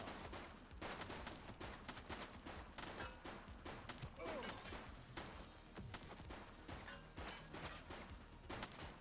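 Rapid gunshots in The Precinct police game, a near-constant fusillade of sharp cracks and bursts throughout a tense shootout, faint overall.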